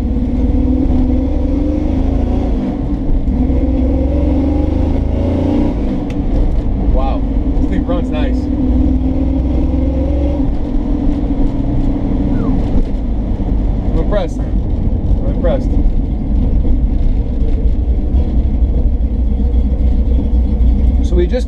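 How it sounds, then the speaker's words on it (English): A 1970 Dodge Challenger engine idles with a deep, continuous rumble close by, running steadily with slight variations, while someone talks over it. "Engine sounds healthy as can be."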